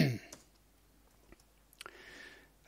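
Faint keyboard key clicks while working in Luxology Modo 3D modeling software: a few sparse, quiet taps spread across a near-silent stretch, with a slightly louder click near the end.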